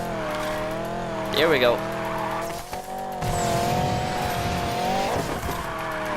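An orange Corvette drift car in Need for Speed Payback slides with engine roaring and tires squealing in sharp bursts, the engine note rising and falling close up as someone speaks briefly over it.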